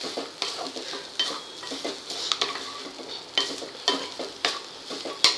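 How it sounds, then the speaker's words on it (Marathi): A spoon stirs a jaggery mixture for ukadiche modak filling in a pan, making repeated soft scraping and clinking strokes in an irregular rhythm, close by, with a faint sizzle underneath. "गूळ छान मिक्स करून घ्यायचं यात।"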